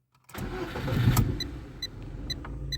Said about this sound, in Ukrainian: Повертаю ключ і заводимо машину.